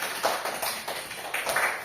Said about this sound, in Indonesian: tepuk tangan dulu untuk kelompok Saira dan Kenia